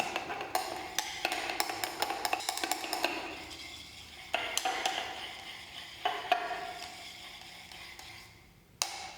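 Salt-thickened shampoo stirred steadily, a continuous close scraping and clinking of a utensil against the container with small sticky knocks, pausing briefly around the middle and ending on a sharp tap.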